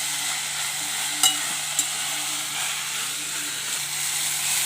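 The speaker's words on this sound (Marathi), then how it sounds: "याला सुद्धा छान परतून घ्यायचं म्हणजे अगदी मस्त असे याच्यासोबत ते परतले जातील" Cashews sauté with masala in a pan for a dhaba-style kaju curry. A soft, steady sizzle holds throughout, with a couple of brief spatula taps and no talking.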